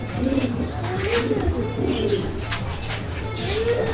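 Fancy pigeons, a pair of round, plump birds, give soft repeated coos close by, with a person talking over them.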